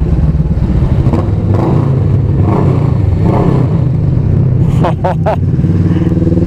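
A 2015 Kawasaki Vulcan S motorcycle engine hums in a steady low rumble while riding, loud and continuous beneath someone speaking over it.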